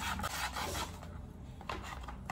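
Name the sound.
filing slipper sole surface with sandpaper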